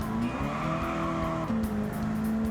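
A 1970 Dodge Charger Super Bee's V8 engine in Gran Turismo 7 drones steadily with a strong harmonic whine that shifts pitch as it revs, joined by faint tire squeal.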